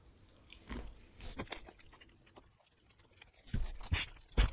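Chewing on a spicy red and blue gummy worm candy, with soft wet bites and a few sharper crunchy chews spread across the clip, louder toward the end, close up with no talk.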